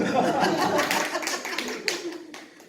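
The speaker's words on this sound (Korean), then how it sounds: "우리 박수 한번." A church congregation claps together for a few seconds, a dense patter of hands mixed with light chuckles that tapers off near the end.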